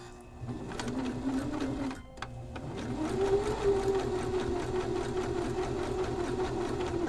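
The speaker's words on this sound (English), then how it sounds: "just very carefully sew along with the zigzag here" A sewing machine zigzag-stitches along a handwoven hand towel, its motor whirring in a steady close hum after a brief pause near the start, then running continuously and slightly louder.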